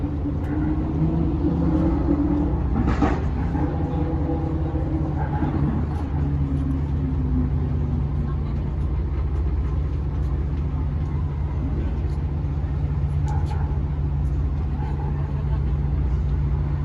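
Vehicle traffic rumbles steadily across the upper deck of a railroad bridge, added in 1916, heard from a river cruise boat below, a low continuous drone with occasional louder passing vehicles.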